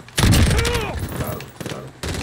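Gunfire in the Modern Warfare multiplayer video game: a loud, rapid burst of shots, then a fainter second burst, over a player's raised voice.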